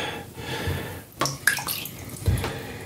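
A person eases slowly into a bathtub of cold water, with soft sloshing and a few brief splashes and drips close by, and no talking.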